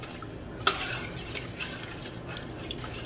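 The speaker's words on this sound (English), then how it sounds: "so I'm just going to stir this around" A utensil stirs seasoned ground meat in a pan, soft scraping and clinking against the metal with a faint low sizzle underneath, one sharper clink near the start.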